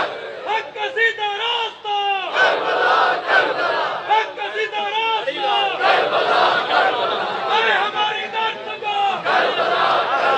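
A large crowd shouts religious slogans in loud, rhythmic call-and-response bursts at a Shia majlis gathering in Allama Iqbal Town, Lahore, dense and continuous throughout.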